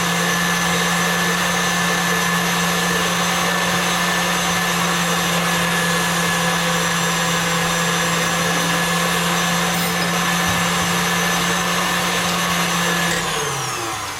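An electric mixer's whisk whips cream for homemade butter, a steady close motor whine with continuous whirring that holds evenly for about thirteen seconds before winding down at the end.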